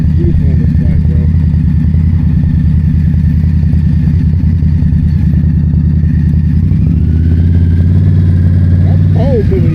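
Indian Scout Bobber motorcycle engine, a loud, close, continuous rumble with rising and falling revs throughout, while someone talks over it.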